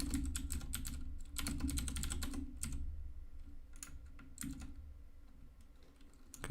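Rapid typing on a computer keyboard, close and crisp, with bursts of quick key clicks separated by short pauses and a louder final keystroke.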